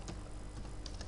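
A computer keyboard is typed on briefly while a file path is entered, soft rapid clicks close by and faint over a low background hum.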